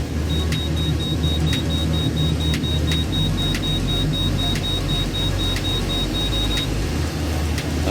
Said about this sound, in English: Let's try that AC. Okay. On the fans. Temperature down. AC on.